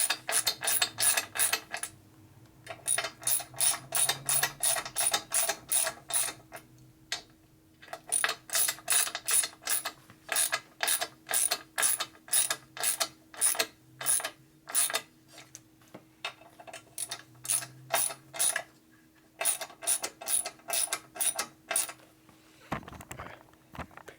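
A ratchet clicks in rapid bursts, pausing now and then, as bolts on the side cover of a 1990 Harley FXR with an 80ci Evo engine are tightened close by with no voices.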